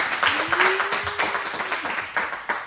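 Church congregation applauding after a sermon, a steady crowd patter of claps at moderate level with a sustained tone rising through it and some voices mixed in.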